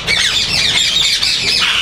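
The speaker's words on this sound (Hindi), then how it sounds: "वायलेट रिंग नेक की फीमेल है ये" A female violet ringneck parrot at a bird farm lets out loud, harsh squawks, close and continuous over a couple of seconds.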